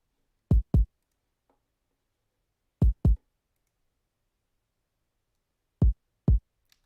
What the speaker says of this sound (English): So together those two kicks sound like this.